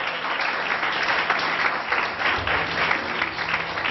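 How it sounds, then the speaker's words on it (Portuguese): Church congregation applauding during an evening sermon, steady dense clapping filling the room throughout, moderately loud with no speech over it. "Você pode aplaudir a Deus essa noite por essa palavra"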